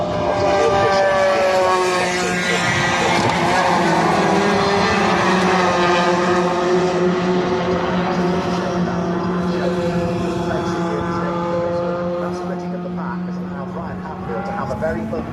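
Racing trucks passing through Graham Hill Bend at Brands Hatch circuit, a loud sustained engine drone with shifting pitch continuing throughout, with a commentator talking over it.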